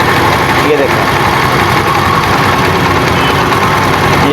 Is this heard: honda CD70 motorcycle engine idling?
yes